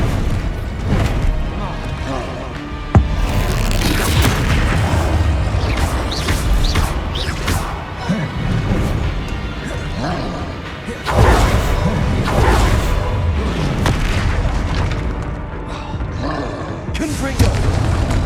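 Incendio and Confringo spells blast repeatedly in Hogwarts Legacy, a busy run of booms, whooshes and crashing impacts layered over game music, with a voice talking throughout.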